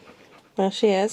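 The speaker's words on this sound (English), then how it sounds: "I apologise for that panting noise, but that is the German Shepherd in the background" A German Shepherd panting in the background on a very hot day in the UK, quiet breathy rhythm underneath someone speaking briefly in the foreground.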